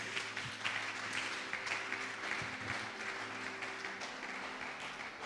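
A church congregation applauds during a worship service, a steady dense wash of clapping that holds throughout at a distance and fairly low level.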